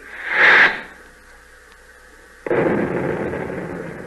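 Torpedo hits on an enemy ship, rendered as a radio drama sound effect: one loud, booming blast fades into a low hiss, then a second heavy rumbling explosion follows and lingers, with no talk.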